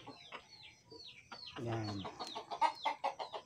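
Chickens cluck and squawk nearby in short repeated calls, with a brief spoken word at the start.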